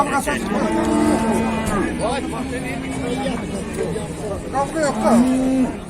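Calves at a livestock market in Füzuli low and moo repeatedly in long drawn calls, near and loud, over a busy background of traders talking and a crowd murmuring.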